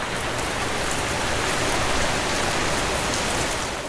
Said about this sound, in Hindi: तेज बारिश हो रही होती है।